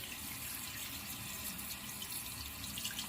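Water pours steadily through a Fluidmaster PerforMAX universal fill valve into a toilet tank, a constant close hissing rush that stays even throughout with no talking.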